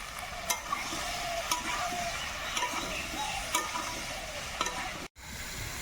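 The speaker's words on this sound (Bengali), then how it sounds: "একই সঙ্গে লবণ হলুদ দিয়ে সবজিটা খুব ভালো করে কষিয়ে দেব।" Vegetables stir-fried with salt, turmeric and green and ripe chillies give a steady soft sizzle with scattered scraping stirs, fairly quiet and continuous, broken by one brief dropout near the end.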